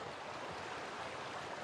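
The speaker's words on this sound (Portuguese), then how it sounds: "Água." Water runs steadily in The Outer Worlds game, a faint, even hiss of a flowing stream with no change in level and no voices.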